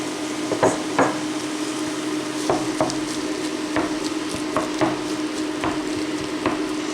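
Minced meat fries in a pan with a steady low sizzle, punctuated by regular knocks and scrapes of a utensil stirring it, close and clear with no talking.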